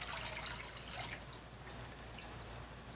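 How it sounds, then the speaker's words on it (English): About four cups of water poured gently into a cooking pan on a stovetop, a soft splashing trickle that is brightest at the start and settles into a quieter steady stream. "Just pour that in"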